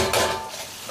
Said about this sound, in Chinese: 继续给它炒香